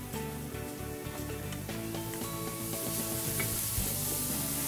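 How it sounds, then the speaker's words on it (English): One onion sautéing in hot oil in a pot, giving a continuous close sizzle with occasional stirring, moderately quiet and without talk. "I'm about to put my one onion in the pot. Okay, and I'm just gonna get that sauteed"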